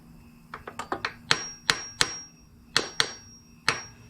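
A Honda Helix engine bushing is tapped into place with about a dozen sharp metallic hammer strikes in uneven bursts, close and ringing, with no speech.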